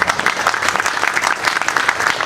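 Loud, brisk clapping from a crowd at an Independence Day celebration and prize-giving event greets Haji Mohammad Ayub as he is called to the stage, short and continuous.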